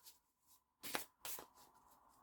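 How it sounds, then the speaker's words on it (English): Tarot-style horror oracle cards shuffle softly by hand in a quiet room, two distinct riffling bursts followed by faint sliding and tapping of the deck. "And that's enough shuffling."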